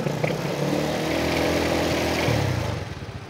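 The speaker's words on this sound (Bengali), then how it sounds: "দেখেন সেলফ ধরা মাত্র গাড়ি স্টার্ট নিয়ে নিল, একদম স্মুথ সাউন্ড আছে," A second-hand motorcycle engine at a bike showroom turns over on the electric self-starter and settles into a smooth, steady idle, running loud and close without pause for the whole stretch.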